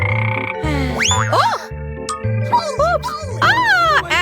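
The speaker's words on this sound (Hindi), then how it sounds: "वाह, यह एक मेंढक है।" A frog croaks in a playful challenge scene, with repeated low, throaty pulses under high, squeaky, sing-song voices that talk over it.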